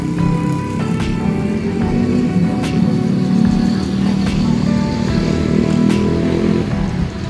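Motorcycle engines idle and rev at a tubeless tire service shop in Indonesia, a steady loud rumble of several bikes nearby with occasional sharp clanks of tools and workshop noise mixed in.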